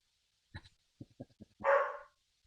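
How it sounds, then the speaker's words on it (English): A dog lets out a few short, separate barks, then one longer, drawn-out bark, heard fairly quietly against near silence. "Yeah, it barks."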